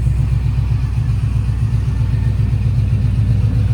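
A modified Chevrolet Silverado pickup truck engine idles and rumbles steadily at close range, a low throbbing pulse with no talking.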